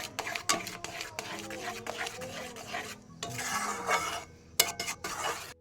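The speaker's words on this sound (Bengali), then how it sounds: "এটা নাড়তে হবে কারণ এটা যেহেতু চাল তো গোবিন্দভোগ চাল যে কোনো চালই হোক কিন্তু বসে যাবে না নাড়া দিলে" A spoon stirs Gobindobhog rice simmering in milk in a pot for pitha, with repeated scraping and clinking against the pan bottom and soft bubbling underneath, moderately close and steady.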